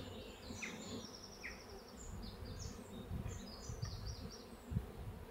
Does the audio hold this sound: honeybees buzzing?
yes